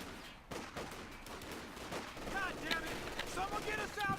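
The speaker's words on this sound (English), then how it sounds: "Another burst of fire too." Gunfire from an MG42 machine gun in the World War II strategy game Company of Heroes 2, with bursts and impacts crackling over a busy battlefield mix and some speech mixed in.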